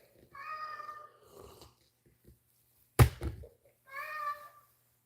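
A cat gives two drawn-out, close meows, separated by a quiet gap and a single sharp thump.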